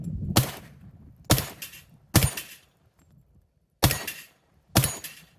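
Five sharp, evenly spaced cracks ring out as .45 ACP 230-grain rounds from a Glock 21 strike steel plates, each shot followed by a short decaying ring, loud and close with quiet gaps between.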